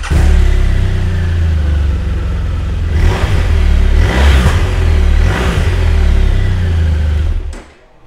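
A 2016 BMW R1200RT LE boxer-twin motorcycle idles loudly up close, then revs three times in rising surges before the engine is cut and the rumble dies away at the end.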